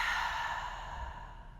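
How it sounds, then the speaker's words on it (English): One deep collective breath at the close of a morning yoga practice, a long audible inhale flowing into a slow, sighing exhale, close and steady, with no talking over it. "Let's take a collective breath to seal our practice for today. Inhale here, and exhale, release."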